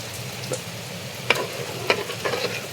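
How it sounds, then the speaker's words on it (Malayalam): Curry paste, arappu, with salt and hot water, bubbles and simmers in a pan, a steady soft sizzle broken by a few sharp pops and light stirring taps. "അപ്പം നമ്മൾ അരപ്പ് തിളക്കാൻ തുടങ്ങിയിട്ടുണ്ട്."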